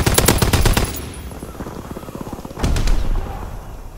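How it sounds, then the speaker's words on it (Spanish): A fighter plane strafes with machine guns in the World War II shooter Call of Duty: WWII, loud rapid bursts of gunfire opening the moment, a lull of rumbling, then a second heavy burst and boom near the end. "Piloto de caza listo para ametrallamiento."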